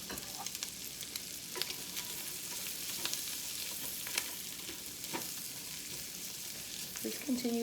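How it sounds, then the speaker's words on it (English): Shrimp fry in butter in a pan, a steady close sizzle throughout with light stirring scrapes now and then and a brief clatter near the end. "Just continue stirring until they're done. Cooking the shrimp for about 5 to 8 minutes or so."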